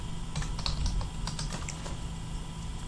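A command being typed on a computer keyboard, a quick run of light key clicks close to the microphone that trails off into quiet, with no talking.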